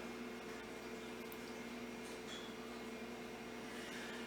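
A microwave oven melts butter for no-bake peanut butter fudge, giving off a steady, low, faint mechanical hum with no talking.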